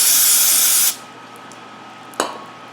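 Aerosol brake parts cleaner hissing into the carburetor of a 1974 Suzuki TC-125 motorcycle: one loud, close, steady spray burst that cuts off abruptly, followed a moment later by a single short tap.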